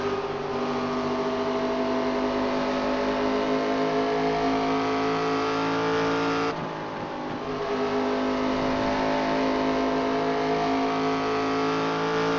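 Race cars in a pack-racing video game drone at a sustained high-revving engine pitch, loud and continuous for twelve seconds with a brief dip and shift midway as cars pass close.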